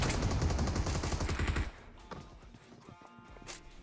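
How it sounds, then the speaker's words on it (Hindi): Gunfire from AKM and DP rifles in the mobile game PUBG Mobile, heard as dense rapid bursts at first, then thinning into scattered shots, some close and some more distant. "अब यहाँ पे आप देखोगे यार तरह तरह की गन चल रही है, कोई एकेएम चला रहा है, कोई डीपी चला रहा है"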